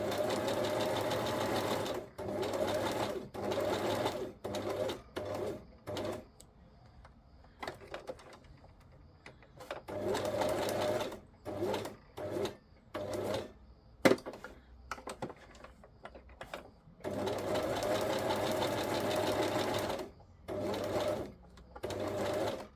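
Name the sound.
sewing machine sewing straight stitch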